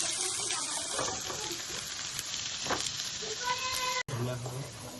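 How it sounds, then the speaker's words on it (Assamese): Potatoes fry in a hot wok with a soft, steady sizzle and some stirring, close by and largely covered by people talking throughout. "এইফালে আলু ফ্ৰাই কৰি আছে"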